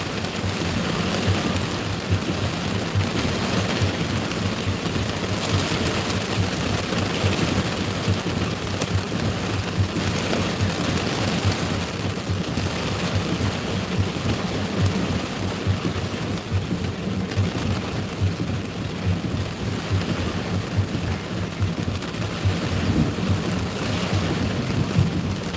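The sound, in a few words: thunderstorm with hail and rain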